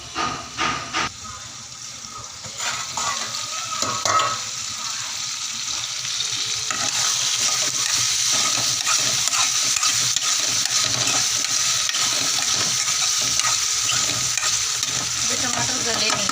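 Tomatoes cook in a pan with a steady frying sizzle and hiss, broken by a few stirring scrapes early on, then settling into a constant close sizzle that holds to the end.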